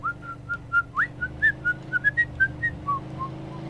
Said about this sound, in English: I know whistling tends not to come up well